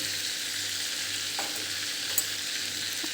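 Whole spices (cumin, cloves, bay leaf, black cardamom, cinnamon and black peppercorns) frying in oil, a steady moderate sizzle up close with one sharp clink, no voices.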